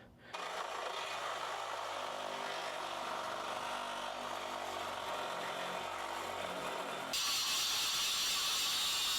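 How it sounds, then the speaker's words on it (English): A Sawzall reciprocating saw cuts steadily and loudly into metal on a 2016–2023 Toyota Tacoma during a shackle hanger kit install, a continuous buzzing rasp that grows harsher near the end. "So with the Sawzall, we are gonna cut"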